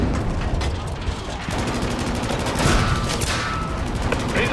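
Rapid bursts of rifle and machine-gun fire crackle in the World War II shooter Battlefield V, dense and loud throughout with repeated shots, while a voice shouts beneath the battle.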